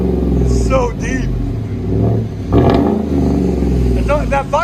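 A Chevy/GMC 5.3L V8 runs with no muffler or resonator, giving a deep, loud exhaust drone that rises and falls. Voices talk over it.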